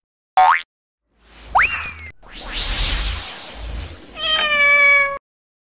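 A cat meows several times indoors while succulents are being potted, sharp rising calls followed by a longer, drawn-out meow, close and loud with no talking.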